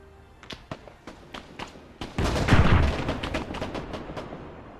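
In Arma 3 Zeus, a tank fires on infantry amid scattered sharp gunshot cracks. A heavier booming blast hits midway and rumbles out as the shots keep snapping around it.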